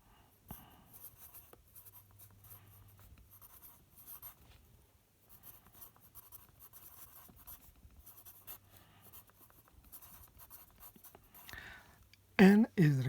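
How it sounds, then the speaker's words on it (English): Pen or marker writing on a board or paper while working a lighting calculation, heard as a steady run of close scratchy strokes with short pauses, and a louder knock near the end. "So I'm going to write here"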